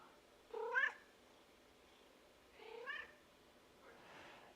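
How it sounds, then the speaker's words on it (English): A house cat meows twice, faint and somewhat distant, with a third softer cry trailing off, each call rising and falling over a quiet background. "She meowed."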